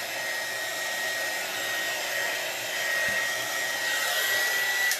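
A hair dryer blows steadily at close range during a chalk paint demonstration, giving a constant whooshing hiss with a faint whine that rises and falls only slightly, with no talk over it.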